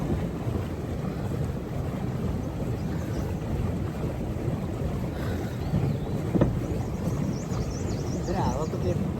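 Steady wind gusts across an open lake at a boating spot in Ilam, Nepal, a continuous broadband rush that stays loud throughout, with faint water and boat movement mixed in and no clear speech.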